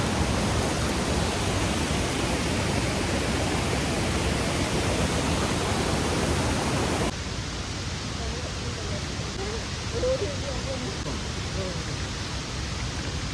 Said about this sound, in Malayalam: ഇതാണ് വെള്ളച്ചാട്ടം.